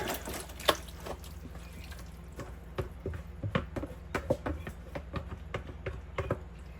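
Thick squash casserole mixture poured into a lined, sprayed baking pan, giving soft wet plops, drips and scraping taps that grow busier toward the end, close and fairly quiet.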